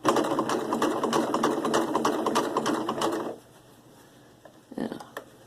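A sewing machine stitches through a coiled rope bowl in a fast, even mechanical chatter for about three seconds, then stops, leaving quiet room tone and a few light clicks and handling noises.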